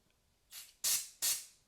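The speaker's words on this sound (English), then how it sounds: "press our trigger, and you see we get a nice even spray pattern" Short hissing bursts from a Sure Shot refillable pump sprayer, three quick trigger presses each giving a loud, even spray that trails off, close to the ear with no one talking.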